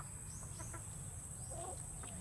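A few short clucks from a chicken sound over a steady background hum, moderately close, with no speech.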